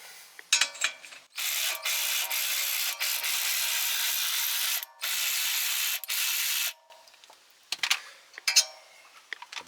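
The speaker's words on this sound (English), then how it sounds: "So let's start off by removing the caliper bolts." A ratchet wrench loosens the caliper bolts on the rear brakes of a 2002 Ford Mustang, with clicking bursts, then long steady buzzing runs of rapid ratcheting broken by short pauses, and a few scattered clicks and clanks at the end.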